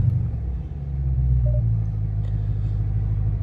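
A rebuilt 2022 Dodge Challenger SRT Hellcat Redeye, previously wrecked with front-end damage, idles with a steady, deep, close rumble that swells slightly midway and holds, alone without talk.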